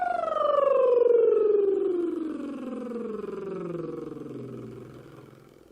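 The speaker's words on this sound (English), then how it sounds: "I'm going to do some lip rolls." A single voice does a lip roll, a buzzing lip trill that starts on a high note and glides smoothly all the way down to a very low note over several seconds, close and clear with no other sound.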